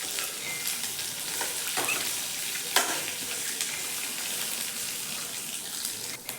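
Ridge gourd peels and raw peanuts sautéing in a pan, a steady close sizzle with intermittent scraping stirs and a clatter of the spatula, no speech.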